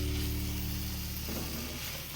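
Ivy gourd sautés in a hot pan with a steady, close sizzle and a faint underlying hum that holds throughout.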